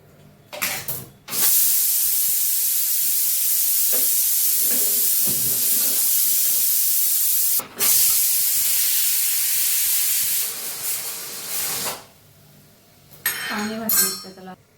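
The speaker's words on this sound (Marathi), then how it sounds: "आता गपचूप मध्ये तो कुकर खोलून बघते डाळ शिजली की नाही" A pressure cooker of boiled dal, used in making puran poli, is opened and lets out a long, loud rush of hissing steam that runs for several seconds, breaks off briefly, resumes, and ends with faint metallic clinks.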